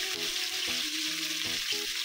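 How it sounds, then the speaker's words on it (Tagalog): Spare ribs fry in a pan with a steady, moderately quiet sizzling hiss, while soft tonal notes drift faintly underneath. "Fry lang natin siya ng bahagya hanggang maging slightly brown."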